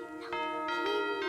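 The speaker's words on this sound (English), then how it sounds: "The bells." Bells ring during a kids' church musical, a sustained tonal chime with several soft repeated strikes layered over a steady ringing hum, moderately loud.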